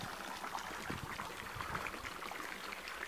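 Water runs steadily from a turned-on outdoor tap into a drinking spot for chickens on a hot summer day, a constant close splashing trickle with no talking.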